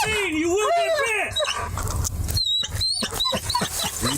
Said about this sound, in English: That dog is going wild, so obviously somebody's in there